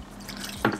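Water drips and trickles as it drains from a portable mini washing machine with a spin cycle, with a steady close-up wash of noise and one brief splash near the end.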